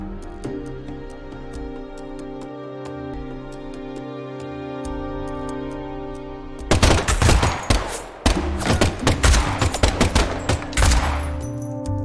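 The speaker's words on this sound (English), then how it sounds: "And the last gunshot we heard sounded ominous, Zack." Rapid gunfire bursts out in the video game Deadly Premonition 2, loud dense volleys of shots over a steady tonal music bed, following several seconds of music alone.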